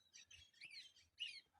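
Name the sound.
chick chirping, calling for its lost companions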